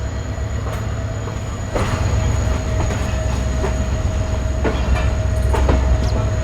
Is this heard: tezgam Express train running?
yes